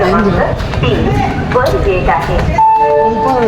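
A large railway station with a train present, with rumbling train and platform ambience under a person talking loudly and close.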